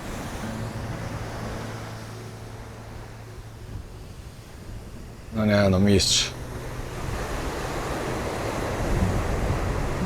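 Steady wash of ocean surf at a shore where fishermen work from small boats, blended with constant wind rumble; someone speaks briefly partway through over the continuous noise.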